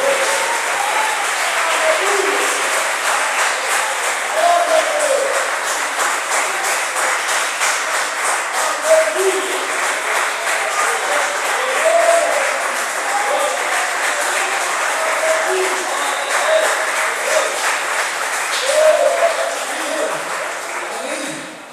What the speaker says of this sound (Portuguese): Diga graças a Deus e aplaude o nome do Senhor